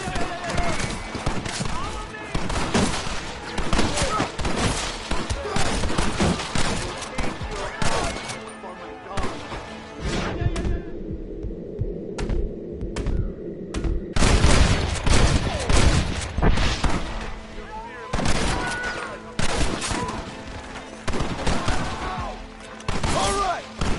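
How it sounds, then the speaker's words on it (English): Rapid bursts of Gatling gun fire in Red Dead, loud and dense, mixed with other gunshots and crashes and shouted voices, easing briefly midway before the firing surges again. "You man the Gatling gun, Marston!"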